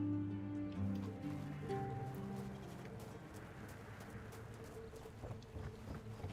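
Horse hooves clip-clop steadily in Tainted Grail: The Fall of Avalon, a quiet regular trot of light taps under tonal game music, with no talk.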